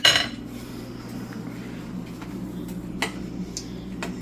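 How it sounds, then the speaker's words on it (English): A utensil stirring food in a cooking pot, giving soft scraping and a few faint metallic clinks over a low steady background hum, with no talking. "Always want to stir so that you're not just getting one big bite of everything."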